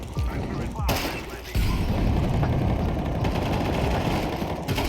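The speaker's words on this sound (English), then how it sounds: "I'm throwing flashbang" A flashbang grenade thrown in a Counter-Strike match, with a sudden broadband burst partway through that gives way to sustained loud game noise and scattered gunfire-like crackle.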